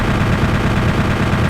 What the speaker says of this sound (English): So we'll pull out the chain gun for a bunch of lost souls hanging about.